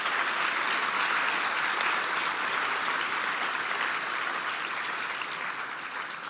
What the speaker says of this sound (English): I think the graduates must give them another round of applause.